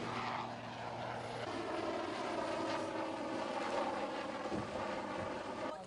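Super Tucano turboprop aircraft of Squadron 21 from Malang flying over an Indonesian border island, a steady loud propeller and engine drone with no talk.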